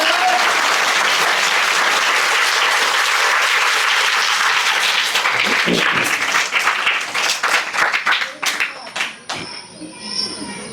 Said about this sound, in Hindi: अभी जोर से बजाओ ताली।